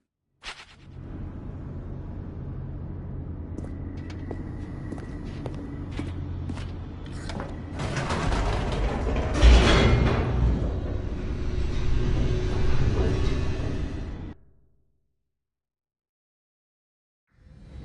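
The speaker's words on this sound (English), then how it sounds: "The elevator raced downward, plummeting towards an unknown fate." A descending elevator in The Stanley Parable 2 rumbles steadily and swells louder midway. A sharp thump comes near the peak before the sound cuts off abruptly into silence.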